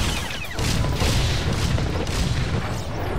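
A heavy, booming explosion in Star Wars The Old Republic rumbles loud and sustained for several seconds, with crackling debris over the low roar.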